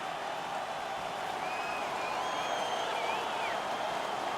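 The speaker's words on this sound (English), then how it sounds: "The home crowd is ecstatic. They're making all kinds of noise." Home crowd in the NHL 17 hockey video game roaring after an on-ice fight, a steady dense wash of cheering and applause with a few whistles rising over it, holding loud and continuous throughout.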